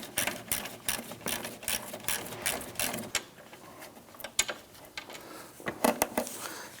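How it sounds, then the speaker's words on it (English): A hand ratchet with an 8mm socket loosens a radiator bolt on a 2011–2019 Ford Explorer, giving quick close bursts of clicking with short pauses between strokes, then a few scattered metallic clicks, with no talk. "Use our ratchet and our socket."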